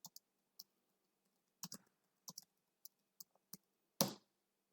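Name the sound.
typing on a computer keyboard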